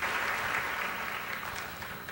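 Audience applause at a Hay Festival 2014 talk, a steady wash of clapping that holds at an even level for about two seconds with no voices over it.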